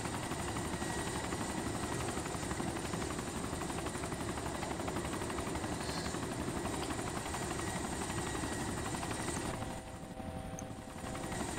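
A helicopter in the DayZ video game flies low and sets down, its rotor and engine making a loud, steady, close chopping drone that dips slightly near the end as it lands, with no talk.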